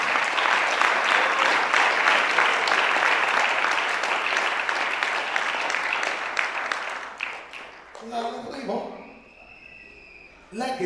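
A church congregation claps together in sustained, dense applause during a Spanish-language revival campaign service, loud and continuous for about seven seconds before breaking off into scattered sounds and a few voices.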